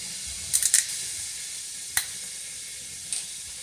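White cooking wine hitting melted butter in a skillet gives a steady, bright sizzle that runs throughout, broken by a few sharp clicks and clatters of a utensil near the start, in the middle and near the end.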